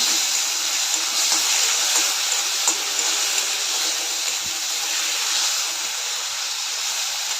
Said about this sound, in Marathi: चांगलं परतून घेते कांदा लसूण आणि टोमॅटो